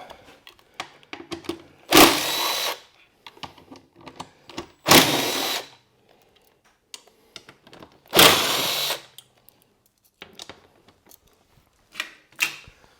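Power tool backing out the four bolts that hold the tail section on a T7 motorcycle: three separate whirring bursts of a second or so each, loud and close, with small clicks and handling knocks between and a couple of shorter spins near the end.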